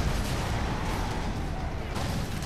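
Sustained gunfire in the Halo 4 video game campaign. A dense, continuous roar of rapid shots and blasts holds loud throughout with no pauses.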